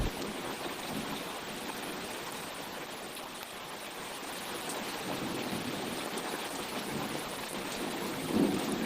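Steady heavy rain pours down through a storm in a rural setting, a dense continuous hiss, with a low thunder rumble rising toward the end.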